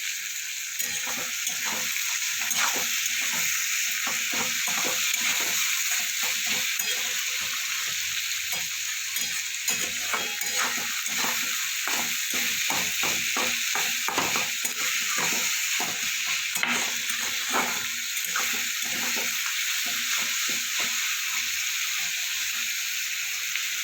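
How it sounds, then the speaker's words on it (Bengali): Sliced onions sizzling in oil in a pan after salt is added, being stirred while cooking kundru; a steady close crackle runs throughout with frequent scraping stirs and no talking. "একটু লবণ দেবো পেঁয়াজটা যাতে একটু নরম হয় তাড়াতাড়ি ভাজা হয়ে যায়"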